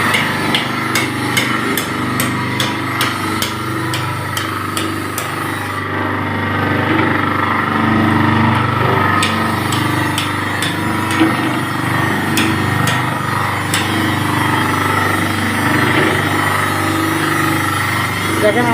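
A screw oil expeller press cold-presses mustard seeds, a loud close machine with a constant motor drone and a regular metallic knocking all the way through, with some talk mixed in.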